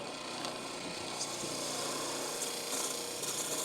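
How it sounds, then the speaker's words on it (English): A gouge cutting end grain on a wood finial spinning on a lathe: a steady, dense, hissing shave that holds its level throughout with slight swells, close and continuous, with no talking. "I'm going along with the leading edge of the gouge. I'm pushing it. It's all end grain"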